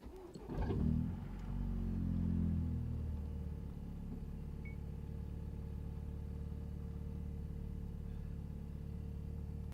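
Rebuilt engine of a 500 hp Honda Civic Type R FK8 cranks and catches on its first start, a brief flare of revs settling into a steady, close idle rumble with no talk.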